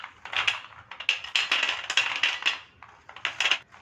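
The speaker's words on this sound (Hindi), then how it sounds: "आप इसकी आवाज़ सुन सकते हैं कि ये कितने क्रिस्पी बन के तैयार हुए हैं।" Crispy deep-fried shakarpara, sweet flour biscuit bites, being stirred and handled, giving a quick run of dry, brittle clattering and rustling crunches, close and fairly steady with brief pauses, with no talking.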